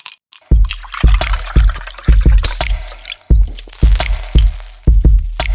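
Liquid is poured into a glass in a series of splashy, gurgling bursts at an uneven rhythm. The sound is close and fairly loud, with no voices.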